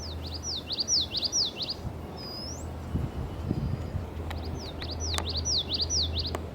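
Birds sing at Fire Island Pines: repeated quick high chirping phrases in clusters, fairly near and clear, over a low steady hum and faint outdoor rustling, with no talking.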